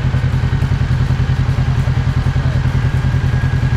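A Royal Enfield Meteor 350 motorcycle rides along with a steady, loud, rapid engine thump and a rushing wind and road noise throughout, close by and with no other sound.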